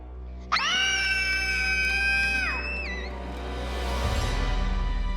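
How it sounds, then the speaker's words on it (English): Several children scream loudly together in a sustained, piercing shriek that holds for about two seconds and then trails off, leaving a lower crowd-like murmur. "And all we have to do is scream. Scream really loud."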